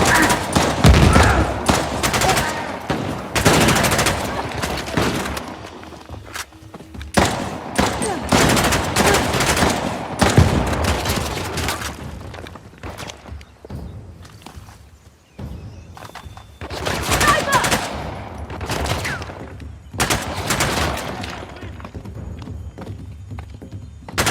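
Gunfight in Uncharted: The Lost Legacy in the Western Ghats, with repeated loud volleys of rifle and automatic fire in bursts, separated by brief lulls of scuffling movement.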